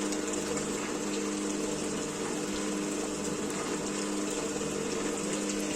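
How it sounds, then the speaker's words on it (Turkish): A running milk cream separator machine with a steady motor hum, while milk and cream stream out of its spouts in a constant loud gushing flow, unbroken throughout with no talking. "Süt akıyor, o tarafa da kaymak akıyor."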